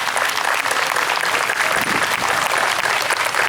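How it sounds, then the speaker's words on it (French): A church congregation at an Assumption Mass bursts into sustained, even applause, a dense and loud wash of clapping lasting several seconds with no clear voices. "On peut l'applaudir."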